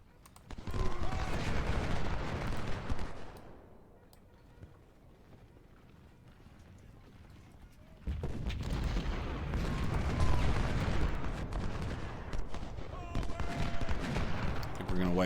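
24-pounder guns and musketry in a Civil War battle at Bayou Forche in the strategy game Ultimate General: Civil War make a dense, rumbling din that drops to a quieter lull midway, then swells again.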